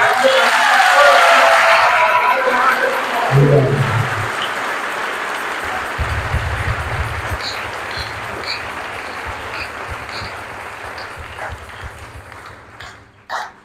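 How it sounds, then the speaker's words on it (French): Congregation in a church breaks into loud applause and acclamation, strong at first and then fading over several seconds, with a few thumps and background noises as it dies down. "Non, ça mérite les acclamations."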